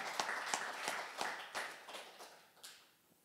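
A church congregation claps together during a Sunday worship service: faint, steady, rhythmic claps that slow and thin out toward the end.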